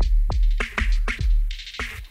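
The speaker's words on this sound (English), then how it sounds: "we got a beat, 100 BPM," A 100 BPM drum beat plays alone: punchy kicks and sharp snare hits with steady hi-hat, looping evenly and loud.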